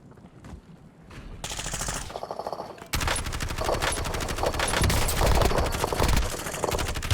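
Rapid bursts of automatic gunfire in the Call of Duty Warzone video game, Verdansk map, starting sparse then building into dense, continuous rattling volleys up close.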